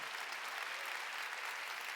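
A church congregation at a Wednesday worship service claps together in dense, steady applause that stays loud and even throughout, with no voices standing out.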